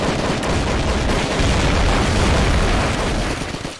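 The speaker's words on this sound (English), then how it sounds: "I still can't hear any of you because the explosions are too loud." Loud, continuous barrage of booming explosions from the video game Reisen Simulator, dense and overlapping for nearly four seconds with no pauses, easing slightly only at the end.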